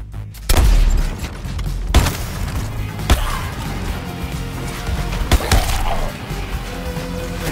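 Gunfire in the Suicide Squad: Kill the Justice League video game: loud, close bursts of shots and impacts with sharp cracks at irregular intervals over a constant background rumble of action.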